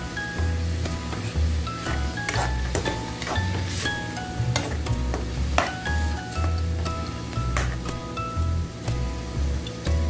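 Chopped tomatoes sauté in a hot pan, a continuous crackling sizzle with scattered pops and occasional stirring clatter, loud and close with no talking.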